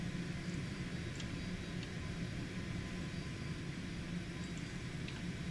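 Cessna Citation X jet engines taxiing in a flight simulator, a steady low rumbling whine holding at a constant level throughout, with faint high tones and no speech.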